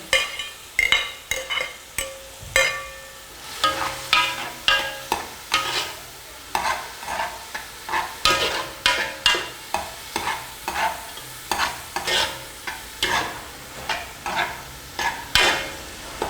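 Onions and tomato cook together in a pot, stirred with a utensil that scrapes the bottom in repeated rhythmic strokes over a soft, steady sizzle, with no talking.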